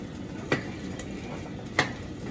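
Noodles and vegetables stirred in a pot, two clear metallic clinks of a utensil against the pot plus a fainter tap between them, over a soft steady background hiss.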